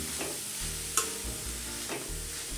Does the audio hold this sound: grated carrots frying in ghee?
yes